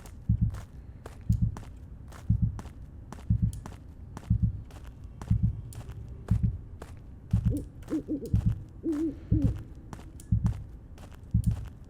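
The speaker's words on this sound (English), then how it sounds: "I love listening to the owls." Owls hoot repeatedly in the night ambience of the monster-hunting game Witch Hunt, soft low calls recurring under steady footsteps that crunch along in a regular walking rhythm throughout.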